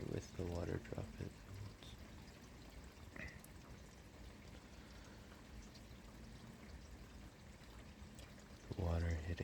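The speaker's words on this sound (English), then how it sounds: "The water hitting the concrete." Rainwater pours and trickles onto concrete and runs off a roof into a gutter, a soft continuous wash under a close, quiet voice talking at the start and end.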